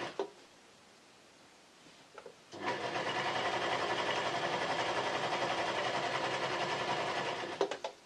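A serger runs in one steady, fast, continuous stitching burst lasting several seconds while it sews a T-shirt hoodie seam. A quiet lead-in comes before it, with a couple of small clicks at the start and end.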